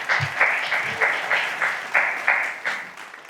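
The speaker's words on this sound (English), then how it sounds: "So let's give them a round of applause." A crowd applauds with steady, rhythmic clapping from an audience, moderately loud, with no one speaking over it.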